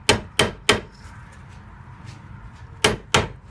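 A hammer strikes a seized, rusted bolt on a 2006 Nissan Maxima 3.5: three sharp metallic blows in quick succession, a quiet pause, then two more close, loud hits.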